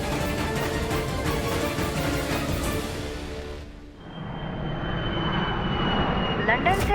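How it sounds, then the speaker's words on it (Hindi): A passenger jet from London lands at an airport, its engine roar steady and loud, dipping briefly midway, then swelling again. Voices may be faintly mixed in. "लंदन से आने वाली फ्लाइट संख्या GX782 लैंड कर गई है"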